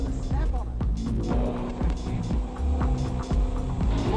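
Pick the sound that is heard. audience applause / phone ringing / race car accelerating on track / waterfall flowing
race car accelerating on track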